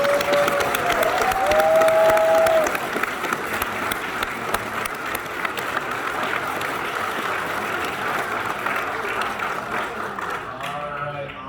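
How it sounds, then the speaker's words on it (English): A convention panel audience at Fan Expo 2022 bursts into sustained applause, with a few cheers rising early on, then settling into steady clapping that fades near the end as a voice begins to speak. "Everybody, round of applause for Ina, please"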